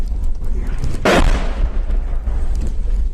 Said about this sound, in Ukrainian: Машина, в якій їхала жінка, потрапила під обстріл.